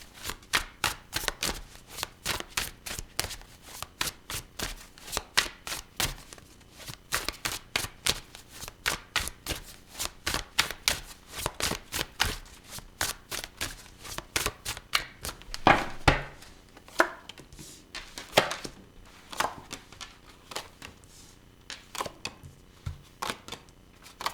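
Tarot cards being shuffled for a reading: a steady run of crisp riffling slaps and flicks at close range, repeating in quick bursts throughout with no talking.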